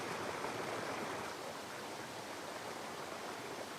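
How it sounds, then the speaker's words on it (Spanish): A river rushes through deep gorges, heard as a steady, dense broadband roar of flowing water, constant and fairly close with no pauses or voices. "Ahí por dentro corre el río con la fuerza de la juventud, dando impresionantes brincos cada que puede."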